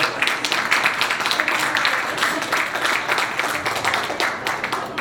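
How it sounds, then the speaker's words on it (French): Energetic, sustained applause from the crowd at an intercultural back-to-school brunch at a cultural centre, a dense, close clatter of many hands at a constant level. "Une femme que je vous demande d'applaudir très fortement."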